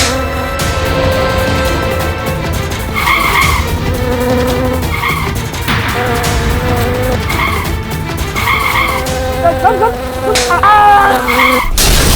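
Housefly buzzing in a courtroom crime drama, loud and close, with its whining drone rising and falling in repeated passes over a background of music.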